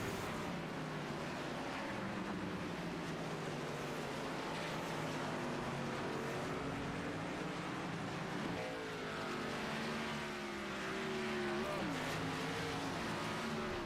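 Race cars lap Sebring International Raceway, their engines droning in a continuous layered roar with shifting pitch as several cars pass at a distance.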